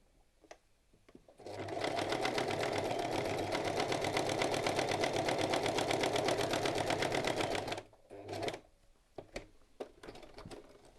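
A sewing machine set to its longest stitch length runs in one sustained rapid stitching burst of about six seconds, close and fairly quiet, with small handling clicks and taps before and after.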